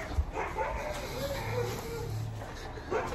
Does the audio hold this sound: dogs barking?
yes